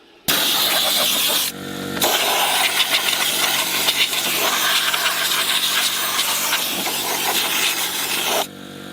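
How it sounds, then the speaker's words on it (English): Loud, steady blast of compressed air from an air compressor nozzle, blowing into an unglued Mercedes-Benz W124 headlight, running about six seconds with a brief pause near the start, then cutting off. "I will use a compressor and I will blow air inside just to remove any dirt that may have went in"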